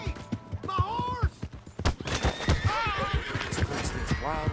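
In Red Dead Redemption 2, a horse neighs and whinnies several times while hooves clip-clop in a steady rhythm close by, with people shouting and talking over the commotion.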